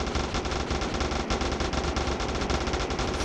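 Rapid automatic gunfire fired into the air in a gangster crime-fighting video game rattles in a dense, continuous burst, loud and close, with no talking.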